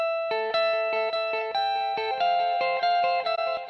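Electric guitar playing a picked melodic line of repeated notes with a delay effect, each note ringing into echoing repeats that swell and fall back as the send rises about 5 dB, heard alone and fairly loud.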